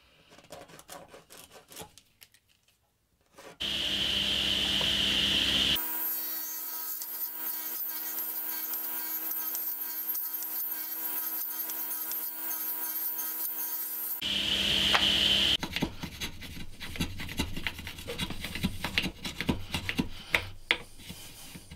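A channel is being enlarged in a wooden headstock for a homemade bar clamp, with a sustained, loud power-tool whine that holds steady for about ten seconds, framed by shorter bursts of rough cutting and rasping on the wood.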